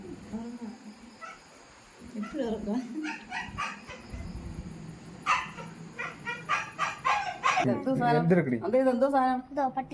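A dog barks several times in short bursts over steady background noise, with people talking nearby.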